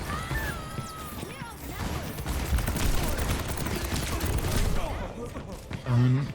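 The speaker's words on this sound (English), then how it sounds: "Rocket barrage incoming." Pharah's rocket barrage ultimate in Overwatch fires a dense, crackling stream of rocket blasts and explosions over game noise, sustained for several seconds before easing off.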